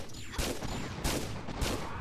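Gunfire in a fan-made Tomb Raider level editor game: three sharp shots fire in a fairly even rhythm over a low background hum. No voices are heard.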